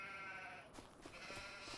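Sheep bleating on a farm, several overlapping calls rising over a steady outdoor background, moderately near and fairly faint.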